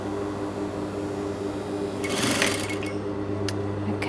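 A sewing machine stitches a shaped, unlined pocket, its motor giving a steady, close whirring hum that thickens slightly partway through.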